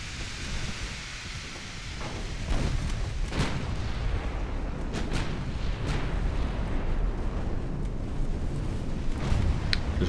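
Battleship guns firing in the naval game UA: Dreadnoughts, with repeated booming reports over a steady rumbling background, some shots sharp and close, others distant.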